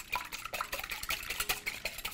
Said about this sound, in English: just whisk those eggs around